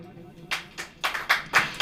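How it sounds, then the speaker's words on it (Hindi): Church congregation clapping during a sermon, heard as several separate bursts of claps spaced about a quarter second apart, moderately quiet and roomy with a faint background murmur. "ताली हो जाइए"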